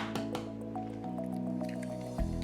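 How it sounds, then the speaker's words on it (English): Eggs go into a bowl of challah dough with a soft, wet squish and a few drips, close and quiet against a steady background hum. "I put my eggs in."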